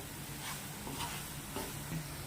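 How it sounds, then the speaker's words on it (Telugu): Grated carrots frying in a pan for jaggery carrot halwa, a soft continuous sizzle with faint scraping stir strokes at a slow, regular pace, quiet and close. "ఇలా అయ్యేంత వరకు కూడా మనం బాగా వేయించుకోవాలి"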